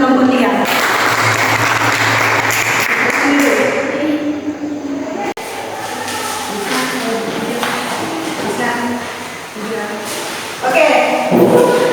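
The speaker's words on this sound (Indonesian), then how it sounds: "tepuk tangan untuk kelompok 3" Classroom applause for a student group after their presentation, a loud burst of clapping that thins and fades midway, with people talking and shuffling underneath.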